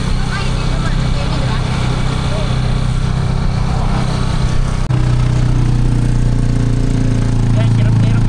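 A motorcycle-powered tricycle laboring on a road on Boracay Island, its mid-pitched engine droning steadily and growing heavier and more strained partway through.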